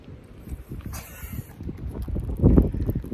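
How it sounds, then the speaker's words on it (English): Gusts of wind buffet the microphone with low, rumbling thumps that swell louder toward the end. "sorry about the wind, guys"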